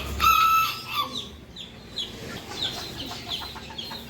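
A Malaysian-breed hen on a farm gives several short clucks and calls, with a brief crow-like cry at the start, close and clear with no voices.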